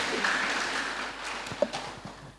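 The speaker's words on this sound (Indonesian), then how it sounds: "tepuk tangan buat teman-teman kaum muda dong." Faint audience applause filling a church hall during a live spiritual class, a soft continuous patter of clapping with one brief louder clap near the end.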